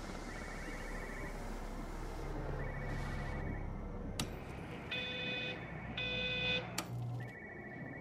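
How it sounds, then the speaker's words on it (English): A telephone rings downstairs in a house in Everybody's Gone to the Rapture, repeated electronic trilling bursts with pauses between them, moderately distant, set over a low ambient hum and occasional sharp clicks, with no speech. "I think the phone... It sounds like it's downstairs."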